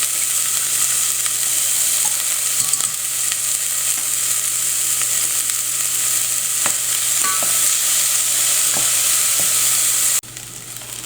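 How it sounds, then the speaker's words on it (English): Onions from a mirepoix sauté in vegetable or olive oil in a stock pot, giving a steady, close sizzle with occasional faint stirring clicks; the sizzle drops abruptly near the end. "put a little bit of vegetable oil or olive oil in our stock pot, and we're going to saute our onions from our mirepoix."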